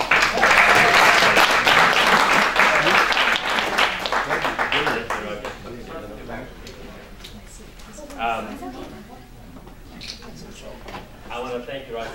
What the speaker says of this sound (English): One more round of applause for George Moore